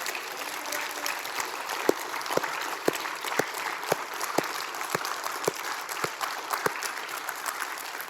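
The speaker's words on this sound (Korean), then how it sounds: "우리 여기서 하나님께 영광의 박수 드리면 어떻겠어요?" A church congregation gives steady applause during a Korean sermon, a dense sustained wash of clapping with a few sharper individual claps standing out, lasting throughout.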